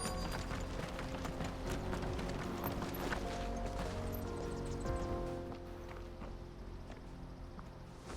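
Horse hooves clip-clop in the video game Final Fantasy 16 Tactics, a steady rhythmic trotting under a dense layer of game music and ambience, fairly loud throughout and easing slightly near the end.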